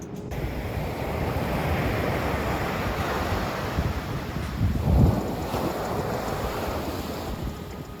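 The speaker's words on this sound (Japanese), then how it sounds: "むしろ海が近いので波の音の方が全然大きいです。" Ocean waves wash in steadily close to shore in a continuous surf roar, with wind buffeting the microphone and one slightly stronger surge midway.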